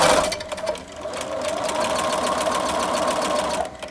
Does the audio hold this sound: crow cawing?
no